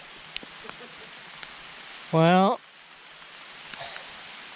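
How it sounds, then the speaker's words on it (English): Soft, steady patter of light rain on a surface, with a brief spoken word partway through. "starting to rain"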